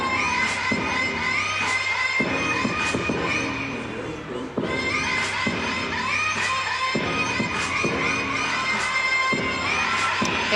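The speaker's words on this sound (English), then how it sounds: "The crowd loves it." A gymnastics arena crowd cheers and shouts steadily during a floor routine, a loud, sustained roar of many voices with no single speaker standing out.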